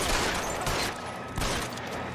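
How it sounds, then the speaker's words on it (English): Gunfire in the video game L.A. Noire Remastered, a dense crackle of shots layered over a noisy backdrop, moderately loud with a couple of sharper bursts standing out. "We're shooting."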